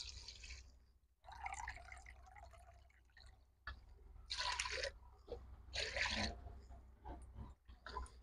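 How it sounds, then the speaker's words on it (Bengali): Water poured into a bowl of rice flour, with splashing and trickling in uneven bursts, close and fairly quiet, with no one talking. "এক বাটি চালের গুঁড়ে আমি 4 বাটি জল দেব।"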